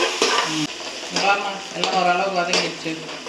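Ingredients sautéing in a pan while biryani is cooked, with a sizzle and stirring scrapes running under voices speaking close by.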